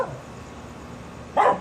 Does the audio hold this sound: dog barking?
yes